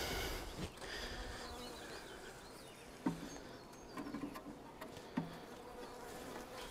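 Honeybees buzz steadily around hives at a beekeeping workplace, a soft continuous hum close by, with a few sharper taps and knocks breaking through.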